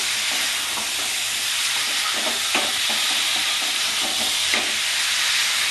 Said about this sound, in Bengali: খুব সুন্দর করে কষতে হবে এঁচোড়টা।